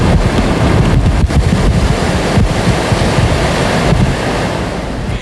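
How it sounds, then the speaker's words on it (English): Hurricane Andrew's storm surf roars ashore in Florida, with huge waves crashing and 160-mile-an-hour wind blasting the microphone in a loud, continuous rush with no voices. "Hurricane Andrew came ashore in Florida overnight, bringing 160-mile-an-hour winds"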